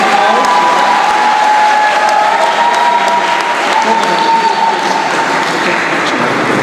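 Loud, sustained audience applause fills a school science olympiad awards ceremony, a dense steady roar of many hands with some crowd noise, continuing unbroken throughout.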